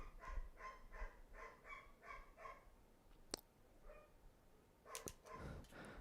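A dog barks faintly somewhere off in the room in a quick run of repeated yaps, then makes a few softer sounds between sharp clicks, all quiet and distant with no talking.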